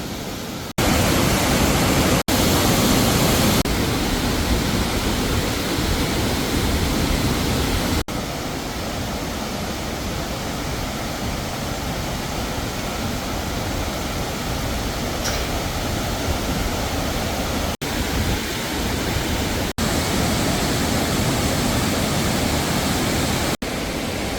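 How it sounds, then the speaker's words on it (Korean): Mountain valley stream water in Sibiseonnyeotang on Seoraksan rushes in a steady, loud, broadband roar that fills the whole stretch without pause, with no voices. "끝까지 물소리가 반겨주기 때문입니다."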